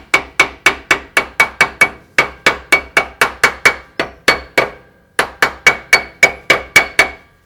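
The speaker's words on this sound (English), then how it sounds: "just knock that on with the hammer" Sharp, ringing hammer blows knocking on a rear pinion part of a 105 Series Land Cruiser, struck in quick, even bursts of several strikes with short pauses between, close and loud.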